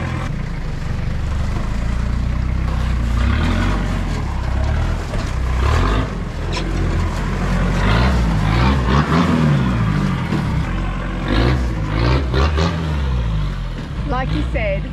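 A Toyota Hilux on mud tyres revs its engine hard while climbing a rocky obstacle, a loud continuous rumble rising and falling throughout, with people talking over it.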